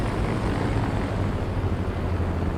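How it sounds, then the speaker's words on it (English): Aircraft engine drone in War Thunder, a loud steady propeller roar filling the whole stretch with no break; anti-aircraft fire is not distinct. "I'm being shot at by anti-aircraft, and there's a plane on us"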